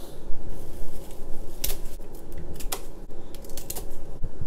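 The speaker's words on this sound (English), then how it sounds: "If you position the shears right beneath the nail, you will see that it will actually fit under the last joint" Kitchen shears snip the nails off chicken feet. Several sharp, close clicks and cuts rise over a soft background of handling and rustling.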